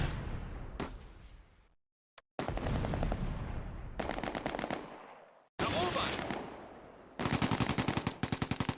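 Bren light machine gun and rifle fire in a Close Combat battle near Arnhem, with rapid automatic bursts and single shots cracking in several loud clusters separated by brief silences.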